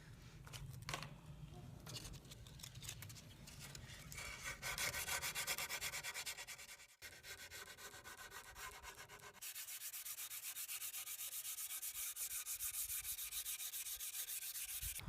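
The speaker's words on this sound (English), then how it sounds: "I'm also going to sand that off." Paint being sanded off a wooden wall shelf for a shabby chic finish: a steady, close, rough rubbing scrape that runs without a break and turns brighter and harsher partway through.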